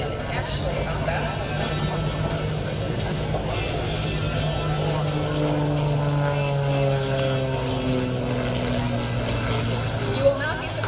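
A Pitts S2B aerobatic biplane flies at the Cherry Point air show, its propeller engine giving a steady, droning hum rich in harmonics whose pitch slides gradually downward as it passes.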